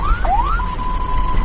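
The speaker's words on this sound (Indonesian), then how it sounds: "Kalau suara seperti ini berarti ambulan sedang membawa pasien tetapi tidak darurat." An ambulance siren sounding the pattern for carrying a non-emergency patient: a loud, close electronic tone rising, dropping sharply, sweeping up again, then holding a steady pitch, heard alone.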